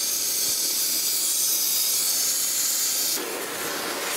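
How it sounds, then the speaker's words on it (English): A rosebud heating torch roars with a steady, loud hiss while it heats a part to burn off grease before melting babbitt, with the tone shifting and dropping slightly near the end. "So let's fire up. I got a rosebud, and we'll get some heat going here."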